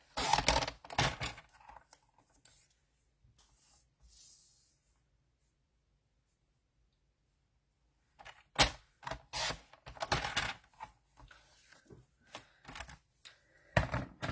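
Basic white cardstock being trimmed on a paper cutter, a few quiet slicing and thunking strokes at the start, then near silence, followed by a burst of sharper cutting and handling noises later on.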